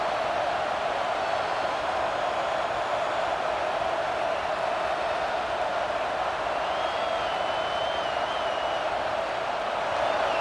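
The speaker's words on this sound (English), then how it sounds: "this crowd is fired up. Listen to this noise here" A stadium crowd in the College Football 26 video game keeps up a constant roaring wash of noise, steady and fairly loud throughout, with a faint whistle-like tone rising briefly near the end.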